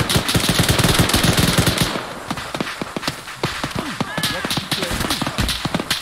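Heavy machine gun fire from a BTR armored vehicle in a video game, loud bursts of rapid thuds in the first two seconds, then scattered sharper shots and impacts continuing under speech.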